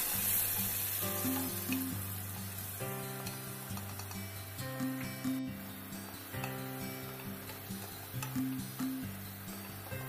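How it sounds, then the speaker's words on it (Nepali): Ground onion paste fries in a pan for chhole gravy, giving a quiet, steady sizzle throughout. Louder rhythmic background music plays over it, and no one speaks. "प्याजलाई अब म रातो रातो नहुँदासम्म भुट्छु"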